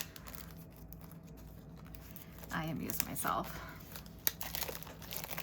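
Plastic wrap is torn and crinkled off a Godfather tarot deck, with close rustling and tearing bursts in the middle and a sharp snap near the end, while a person talks over it.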